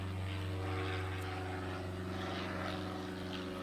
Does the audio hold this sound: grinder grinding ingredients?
no